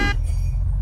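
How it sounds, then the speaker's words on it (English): Police car in the video game Unturned, a low rumbling engine drone held steady throughout, opening with a brief horn-like tonal blip. "I got the police car."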